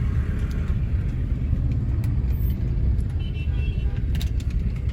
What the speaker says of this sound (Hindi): बहुत ज़्यादा ट्रैफिक होता है यार बैंगलोर का ना